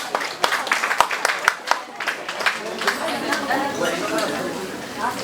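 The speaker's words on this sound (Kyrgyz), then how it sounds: "Кол чабуулар Аксакаловска" Applause breaks out at a Kyrgyz circumcision feast in Krasnoyarsk, with rapid crowd clapping mixed with chatter and a voice over a public address, loud and lively.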